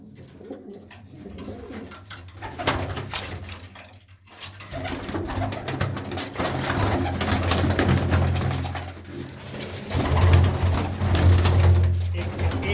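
Pigeons coo steadily at a fair distance through this stretch, a low rolling murmur of several birds at a pigeon-flying fair, with faint clatter now and then and no voices over it.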